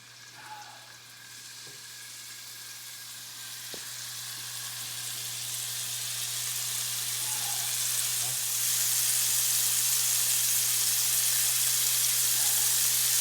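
Scallops frying in butter and a little oil, a continuous close sizzle that grows steadily louder and brighter over several seconds, with a faint tonal hum underneath.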